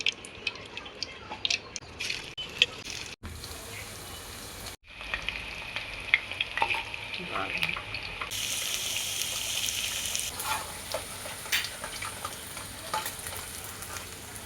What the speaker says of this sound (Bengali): ডাল ও চিকেন বড়া করার জন্য প্রথমে আমরা কড়াইতে তেল দিয়ে নিচ্ছি।